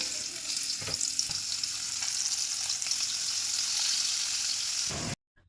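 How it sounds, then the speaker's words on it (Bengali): Besan-coated lote (Bombay duck) fish frying in a pan give a dense, loud, continuous sizzle with a few crackling bursts. The sound cuts off abruptly near the end. "প্রতিটা মাছ এখানে আমি খুব সুন্দর করে ভেজে নিয়েছি"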